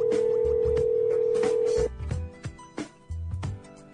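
A telephone rings unanswered on a call that goes to an automated voice messaging system, a steady electronic tone sounding for about two seconds, then breaking into short choppy tones and bursts.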